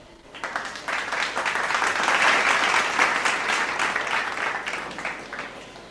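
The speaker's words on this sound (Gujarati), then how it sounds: "તો જોરદાર તાળીઓ થઈ જાય જિજ્ઞા માટે" Sustained applause from a ceremony audience honouring a student at a higher-studies scholarship programme, a dense steady clatter of many hands swelling for several seconds and easing slightly toward the end, with no talk over it.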